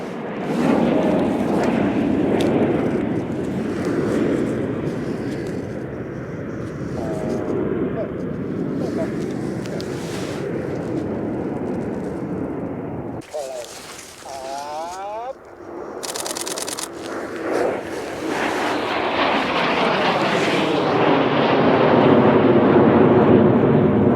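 Red Arrows jets fly in formation during winter training at RAF Scampton, a broad roar that swells and fades overhead, with a close voice and quick camera shutter clicks.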